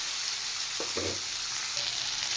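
Boiled chickpeas and chopped green chillies drop into a hot frying pan, giving a steady close sizzle of frying with a brief burst as the ingredients land and a short stir, no voices.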